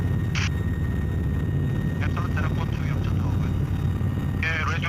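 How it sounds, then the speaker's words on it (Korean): Several KAI Surion military transport helicopters fly in formation, producing a steady, loud, continuous rotor and engine drone that fills the whole stretch without letting up. "여러 대의 수리온이 편대 비행을 하면서 항공작전 수행 능력을 극대화한다."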